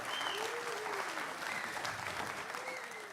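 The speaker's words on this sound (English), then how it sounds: "give a big round of applause for all these guys" A crowd at an esports showcase applauds the players, a steady broad roar of clapping and cheering with faint gliding tones, like whistles or electronic sounds, sweeping across it, with some indistinct voices mixed in.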